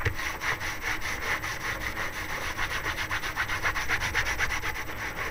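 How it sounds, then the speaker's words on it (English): A cloth rubs briskly over an embossed treat box to wipe away excess finish, making a close, soft, rhythmic scrubbing with quick repeated strokes. "So you get some excess off onto your cloth."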